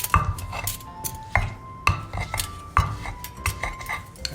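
Garlic mashed in a stone ulekan mortar, with repeated sharp knocks and grinding scrapes, some leaving a brief ringing tone, in an uneven, close-up rhythm.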